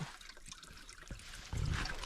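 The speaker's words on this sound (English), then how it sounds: "this is solid ice, and the water's flowing under the ice" Water trickles and gurgles beneath solid ice on a winter trail, a faint close dribble that swells into a fuller rushing flow near the end.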